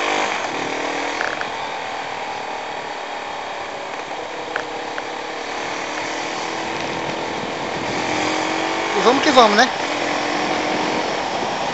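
Yamaha MT-03 motorcycle engine droning steadily while riding, with a brief rev rise near the end, under wind noise and a rider talking over it.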